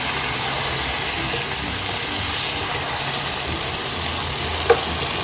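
Chicken pieces coated in turmeric and chaat masala fry in a karahi with a loud, continuous close sizzle, steady throughout, with one faint clink near the end and no speech.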